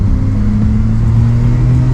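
A Nissan R34 GTR engine drones steadily under part throttle while climbing uphill on Mt Fuji. The note is loud and close, a sustained low hum with a slight whir, and no voices.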